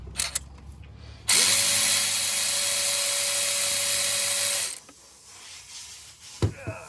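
A power ratchet spins out an oily spark plug on a 2008 Nissan Murano with a steady, close mechanical whir lasting about three seconds. Quieter clicks and handling noises come before and after.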